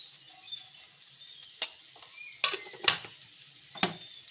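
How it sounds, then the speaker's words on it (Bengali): Cauliflower and potato fry tossed with a little sugar in a pan, giving a faint steady sizzle broken by four crisp spatula scrapes and clacks, close by, with no voices. "চিনি দিয়ে নেড়ে দিলাম"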